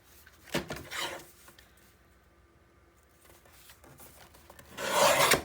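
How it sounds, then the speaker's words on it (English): Paper being trimmed for a Christmas mini album page, close rasping and rubbing strokes in two short bursts separated by a quiet pause. "I'm going to trim this one before I get it committed"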